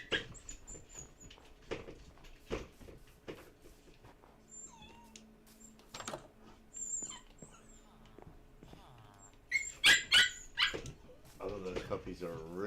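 Minecraft wolves barking and growling in a game world, several short bursts mixed with other creature noises, with a louder cluster of barks near the end.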